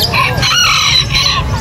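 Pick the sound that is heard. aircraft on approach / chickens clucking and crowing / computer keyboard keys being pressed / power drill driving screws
chickens clucking and crowing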